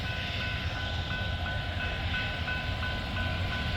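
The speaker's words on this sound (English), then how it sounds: "We got a train," A train rolls along railway tracks with a steady low rumble and faint tonal squeal, continuous and fairly distant, with no talking.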